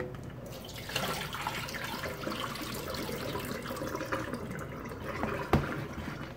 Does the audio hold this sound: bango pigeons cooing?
no